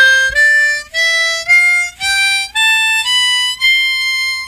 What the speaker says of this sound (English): An ascending scale would sound like this.